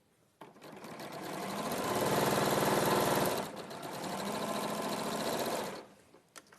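A sewing machine stitches fabric pieces together in one continuous run of rapid, even mechanical chatter, pausing briefly midway before resuming. It is close and clear, with no talking.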